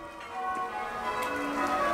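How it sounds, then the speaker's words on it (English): Church bells ring from a village church during a wedding, heard outdoors as a steady, distant metallic peal blended with faint ambient noise. "You can hear the bells"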